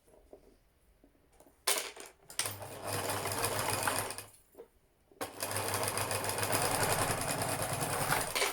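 Sewing machine stitching through a face mask lining in two loud, close runs of fast rhythmic whirring, separated by a short pause, with a sharp clack and soft handling at the start.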